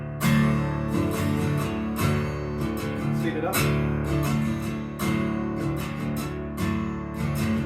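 Acoustic guitar strummed in the two-bar pattern of a song, steady chords with sharp downstroke accents, played close and clear, with a brief spoken aside partway through.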